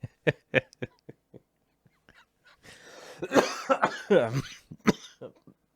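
A congested man coughs after laughing: a string of sharp clicking breaths, then a drawn-out fit of several loud, rough coughs near the microphone, tapering into short gasps.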